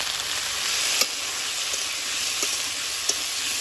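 Oil frying in a wok on a lit stove while Mughlai paratha and aloo dum are prepared, a steady close sizzle with a few soft clicks, no voices.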